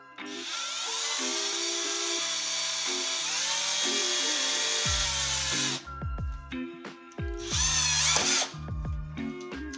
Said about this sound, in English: So you line that up and drill all the way straight through.